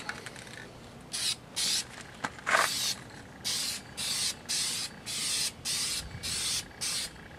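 Outdoor spray painting of a sewing machine: a series of short hissing bursts from a spray can, about a dozen quick pulses in an irregular rhythm, close and fairly quiet.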